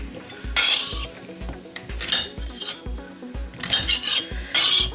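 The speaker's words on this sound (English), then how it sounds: "I'm just going to chop it into small enough pieces that it cooks quickly down" A knife chops courgette into small pieces on a board, producing regular close thuds alongside scraping and clinking from a kitchen, with no one speaking.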